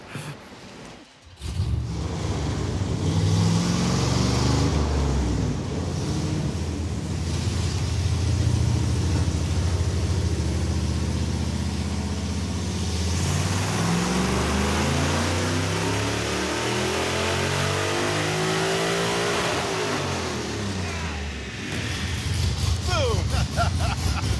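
A Hemi V8 in a Mopar muscle truck revs hard toward 7,000 RPM, a loud, close, sustained roar whose pitch climbs and falls through several sweeps before dropping back to a rumbling idle.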